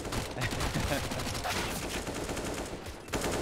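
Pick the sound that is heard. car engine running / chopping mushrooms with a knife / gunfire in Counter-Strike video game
gunfire in Counter-Strike video game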